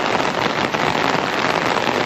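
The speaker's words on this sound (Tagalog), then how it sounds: "Lakas na ng ulan." Heavy rain pours down in a dense, steady hiss that stays loud and close throughout, with no voices over it.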